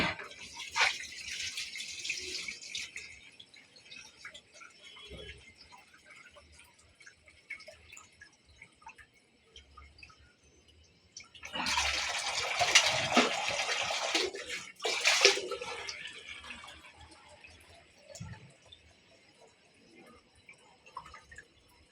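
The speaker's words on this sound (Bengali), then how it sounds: "ছেলে মানুষ কত সুন্দরভাবে মাছ ধুতে পারে।" Tap water runs while fish is being washed, coming in bursts of splashing flow at the start, in the middle and again shortly after, with quiet dripping and handling noises in between.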